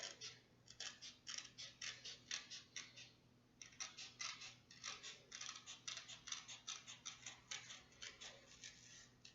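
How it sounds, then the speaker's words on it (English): Scissors snip through paper while cutting out a hand print card, a close, crisp series of rapid rhythmic cuts with a short pause, over a quiet steady hum. "in that little tricky spot, we're going to turn our scissors and go back up."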